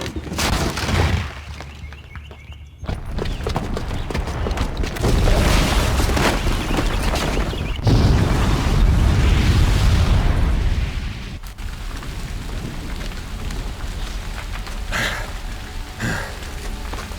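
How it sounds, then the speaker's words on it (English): In a cutscene from Horizon Zero Dawn, a booby-trapped bomb goes off in a loud, sustained roar of explosions and rumbling debris that surges in waves and then settles into a lower, continuous rumble. "the booby trap on the bomb downstairs is gonna get set off"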